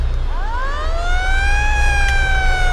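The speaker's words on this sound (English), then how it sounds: "the siren, which is pretty dope." Emergency vehicle siren in a farm video game, rising into a loud wailing tone that swells and holds steady over a low rumbling engine, close and clear with no talk.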